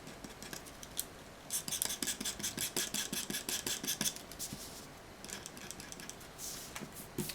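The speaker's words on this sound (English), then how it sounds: "razor cutter and you just kind of shave into it" A razor cutter shaves into manga screen tone on paper, giving quick rhythmic scratchy scrapes in bursts, close and crisp, with short pauses between runs.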